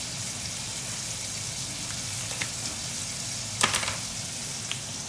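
A rack of lamb cooks in a hot pan, giving a steady, close sizzle and crackle that runs without pause, with a few sharper pops and spits rising above the frying.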